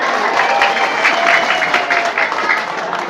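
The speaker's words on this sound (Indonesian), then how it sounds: "Tepuk tangan oke." Audience applause during a Sundanese-language religious talk at an Islamic boarding school in Garut, a dense, steady clapping wash from a crowd lasting a few seconds, with voices faintly underneath.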